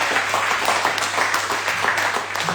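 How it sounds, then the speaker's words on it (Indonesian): Applause for two teams at the close of a national law debate competition: dense, steady clapping from an audience filling the whole stretch at even loudness. "Kita berikan tepuk tangan untuk kedua-duanya."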